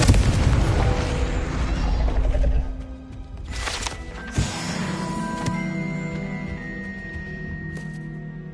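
A Confringo fire spell explodes in Hogwarts Legacy, a loud booming burst in the first few seconds followed by a sharp crack and lingering magical tones and rumble fading out.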